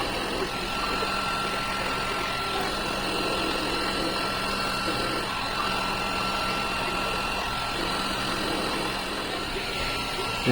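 A hairdryer blows a constant whooshing hum while heating a Kicker L7Q 15-inch subwoofer during a recone repair, steady and close for the whole stretch.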